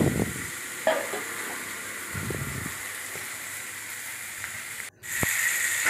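Chopped onions fry in a pan with a steady, close sizzle and hiss, broken by a few stirring scrapes early on and a brief dropout near the end, with no voices.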